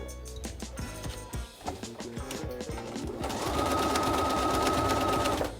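A sewing machine stitches a fabric goose toy, starting with slow uneven needle thumps and then running into a fast steady whir near the microphone.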